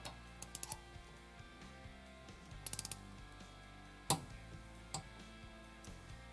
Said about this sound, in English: Now we're going to torque our mount bolts to 40 foot-pounds